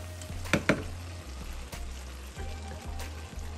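Collard, broccoli and broccolini greens simmering in a pan, a steady close sizzle and bubbling with a couple of brief stirring clatters near the start, no talking.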